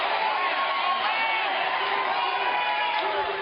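Large crowd at a political rally cheering, whooping and shouting, loud and continuous throughout with no pauses.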